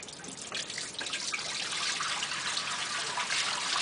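Water is poured steadily into a wave tank, giving a continuous splashing, trickling rush that stays fairly loud and even throughout, with no talking.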